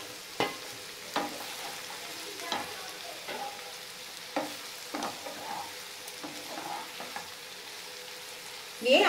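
Capsicum frying in a pan as it is stirred, a soft sizzle broken by repeated spatula scrapes and knocks against the pan, louder clatter at the end.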